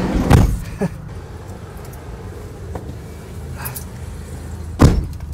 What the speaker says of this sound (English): this man is taking me in his minivan